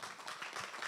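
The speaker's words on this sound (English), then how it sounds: "Let's give her a round of applause." An audience applauds in a meeting room during a board of directors session, a short, steady burst of many hands clapping at once.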